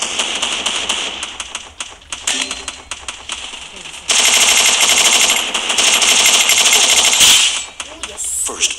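Rapid gunfire from the mobile battle royale game Free Fire rattles in dense automatic bursts, loud and sustained through the middle, with players talking over the shooting.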